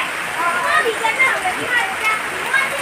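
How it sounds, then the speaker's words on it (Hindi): Heavy rain pours steadily onto a rooftop where water has pooled, a dense continuous hiss of drops and splatter, close and fairly loud throughout with a faint voice mixed in. "बारिश का हालत किस प्रकार दिख रहा है यहाँ पर।"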